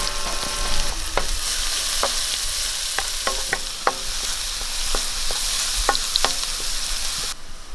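Onion and green chillies sizzle steadily in a hot pan while a utensil stirs and scrapes, giving short sharp clicks scattered over the continuous frying hiss.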